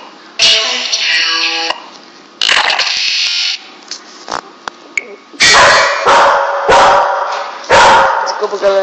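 A female dog barks indoors in several loud, close bursts spaced a second or so apart, sharp and clipped, with quieter gaps between them.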